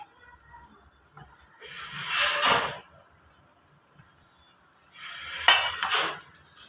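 A spoon scrapes and clinks against a pan while a mushroom and bean curry is stirred over low heat, in two separate bursts of stirring with quiet gaps around them.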